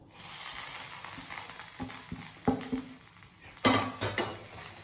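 Grated coconut roasting in a pan while being stirred, with a spoon or spatula scraping and clinking against the metal in irregular bursts over a faint background hiss.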